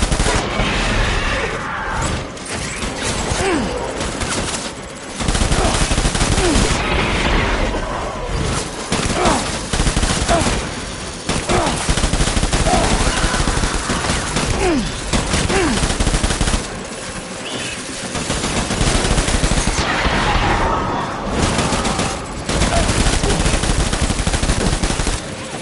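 Sustained automatic gunfire in Death Stranding, dense rattling bursts that run almost continuously at high volume, broken by brief lulls and occasional heavier booms.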